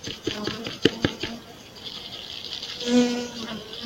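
A droning buzz of honeybees, nearly 400 of them, hums through the clip, rising and falling, with a few sharp clicks and taps near the start.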